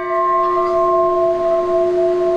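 A temple bell rings with a long, steady, sustained tone that hangs in the air without fading, clear and fairly loud against a quiet background.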